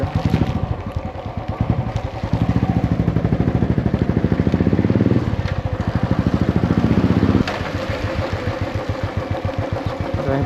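A motorcycle engine runs close by, idling with a steady, pulsing putter that rises and falls as the bike is turned around and parked, staying loud throughout.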